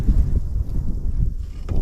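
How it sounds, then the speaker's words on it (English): Gusting wind buffets a microphone outdoors while out on a Surly Cross Check bicycle, a low rumbling roar that swells and dips, loud and close, with no talking. "Oh, wind is picking up."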